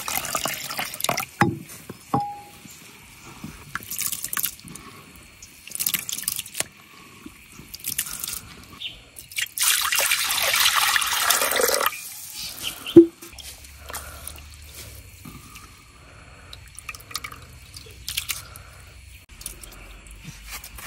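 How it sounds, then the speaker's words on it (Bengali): Broken rice being rinsed by hand in a pot of water, with soft splashing, dripping and squishing of wet grains, busiest in a dense rush near the middle, then quieter sloshing and drips, fairly close. "এখন আমি খুদটারে ভালো করে ধুয়ে নিলাম।"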